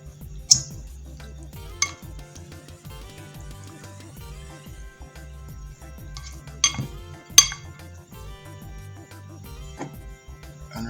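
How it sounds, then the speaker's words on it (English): Corn salad ingredients being stirred in a bowl, giving occasional sharp clinks of a utensil against the bowl over a quiet kitchen background, with a few spaced knocks. "I'm just gonna go ahead and give this a quick little stir"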